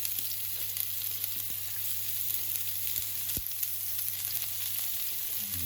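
Shallots and garlic sizzle in a glug of hot oil in a pan over medium-high heat, a steady close crackling hiss with an occasional soft tap and a low background hum.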